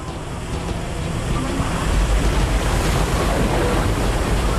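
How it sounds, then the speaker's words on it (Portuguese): A flooding river rushes with excess water in a dense, continuous roar that builds slightly, loud and close, with no voices. "Em 2 horas, ele estava carregando milhões de litros de água excedente numa velocidade"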